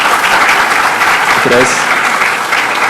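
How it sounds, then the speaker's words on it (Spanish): A room full of people applauds after a talk at a JavaScript meetup, with loud, sustained clapping throughout and a single short spoken word of thanks near the middle. "si ya no hay más preguntas, le damos un aplauso"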